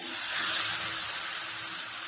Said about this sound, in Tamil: இப்போ சிக்கன் வந்து போட்டுடுறேன்